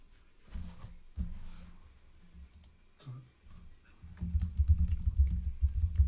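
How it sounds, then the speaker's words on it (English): Typing on a computer keyboard, irregular bursts of close clicking keystrokes that grow denser and louder near the end, with no talk. "I'm typing from my computer."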